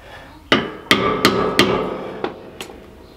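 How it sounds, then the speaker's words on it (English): Hammer blows driving a new suspension bushing into place during a MORryde CRE3000 suspension and wet bolt kit install, six sharp metallic strikes spaced unevenly, loud and close with ringing decay. "Drive our new bushing in."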